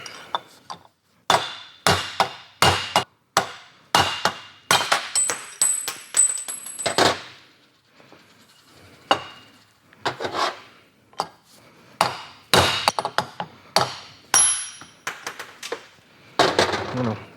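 Brake drum bearings being hammered out on a workbench during a rear brake shoe replacement, loud sharp metallic blows in irregular bursts with short gaps, ringing tones between strikes.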